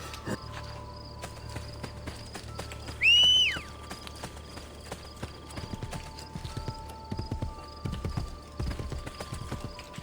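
Horse hooves in the video game Assassin's Creed Brotherhood, steady clip-clop steps close by with a brief loud whinny partway through, over faint crickets and game ambience.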